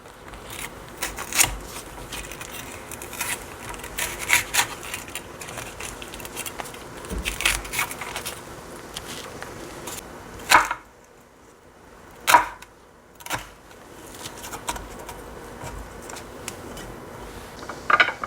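A knife chops seeded paprika and zucchini into squares on a board with a series of sharp, close, irregular cuts, sometimes in quick bursts, with short quiet gaps and no speech.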